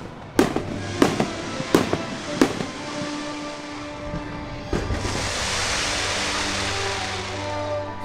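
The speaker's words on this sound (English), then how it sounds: "with the fireworks in the background." Epcot Forever fireworks at Epcot, Disney World: four sharp distant bangs at a steady spacing, one more launch, then a long rumbling wash of crackle and hiss, with a faint steady tone underneath.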